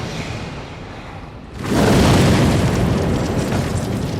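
A torpedo strikes a World War II convoy ship in a war documentary, setting off a sudden deep, roaring explosion that bursts in midway and keeps rumbling loudly afterward, with no talk over it.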